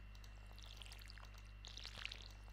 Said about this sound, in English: if we then fill our watering can up